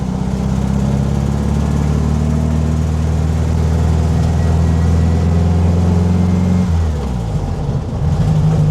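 A 1965 VW Beetle held in second gear makes a loud, steady engine drone close by, its pitch dropping and shifting near the end with no one speaking.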